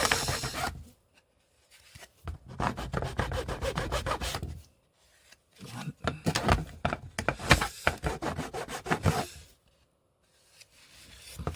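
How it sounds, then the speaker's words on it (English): Rhythmic rasping strokes of a hand file scraping across a wooden part of a Hornby model goods shed, in several bursts separated by short pauses, close and fairly loud. "Because I've got this file up here, I can use that instead."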